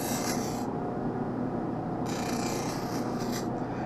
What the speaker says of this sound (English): I want to put a light safety bevel on the front of the lens